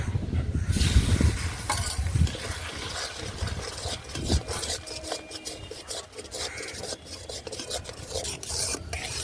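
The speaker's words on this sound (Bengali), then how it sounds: "এবার দিয়ে দেবো এই ফুটিয়ে রাখা দুধটা" Boiled milk is poured into hot caramel in a pan for malai ice cream, setting off a loud, rough bubbling sizzle and hiss that continues steadily throughout.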